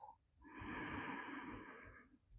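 A long, slow exhale during yoga breathing, a soft airy breath lasting nearly two seconds, close but faint and heard alone.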